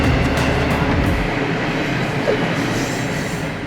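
A train rolls past in a steady loud rumble of wheels and engine with a faint metallic squeal, fading slightly toward the end, with no talking.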